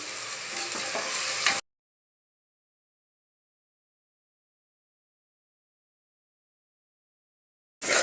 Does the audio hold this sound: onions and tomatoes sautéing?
yes